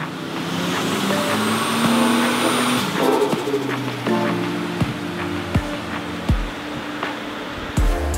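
A Holden VL Commodore with an RB30E+T turbo engine drones at a steady high pitch, then drops to a rougher, uneven idle broken by several sharp knocks and clunks.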